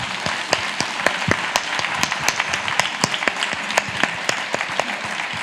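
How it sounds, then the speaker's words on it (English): An audience at a book talk gives a round of applause, a moderately loud mix of distinct, sharp hand claps and a steady clapping wash that lasts throughout. "A big round of applause for Ms. April Ryan."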